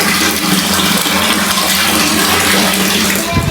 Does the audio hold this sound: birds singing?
no